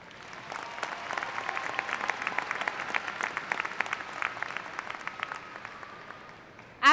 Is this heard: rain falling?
no